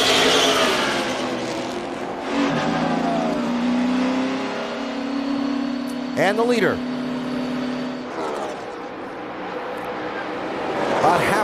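NASCAR Cup race cars at the 2012 Pure Michigan 400 at Michigan, moving along pit road during pit stops; a loud engine drone holds steady under commentator talk, with a sharp pass-by sweep around the middle.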